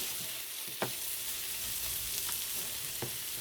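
Onions caramelize in a pan with an even, hissing sizzle throughout, broken by a few soft stirring knocks, heard up close with no speech.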